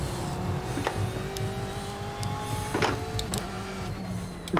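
A BMW race car in the iRacing sim slides under throttle at Summit Point, its steady engine whine holding through the skid, with occasional sharp clicks and knocks over the drone.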